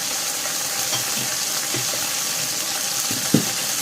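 Chicken legs stir-fried with cumin leaves in a hot pan: a loud, steady sizzle fills the whole stretch, with a few dull stirring knocks and scrapes near the end.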